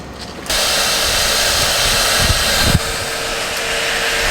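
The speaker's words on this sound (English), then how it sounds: "we're going to get started on sucking these hoppers out" A vacuum sucks leftover seed out of corn planter hoppers, kicking in after a brief pause as a loud, steady, close-up roar that holds to the end with a couple of small clunks.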